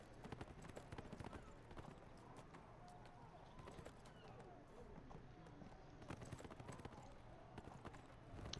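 Hooves of a horse in a video game clip-clopping quickly and evenly in a steady galloping rhythm, faint and continuous, with talking over the top.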